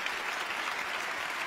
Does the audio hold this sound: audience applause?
yes